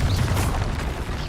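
A Confringo spell blast in the Hogwarts Legacy game, Harry Potter wizarding world: a dense, rumbling explosive burst with a continuous low boom lasting the whole moment, loud and close, with no talk.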